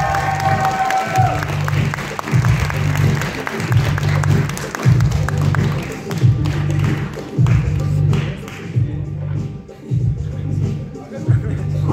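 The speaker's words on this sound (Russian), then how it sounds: "Дорогие друзья, самые громкие аплодисменты нашим победителям!" A crowd at an awards ceremony for winning teams applauds and cheers over loud rhythmic thumping music with a regular beat, the clapping blending into the music.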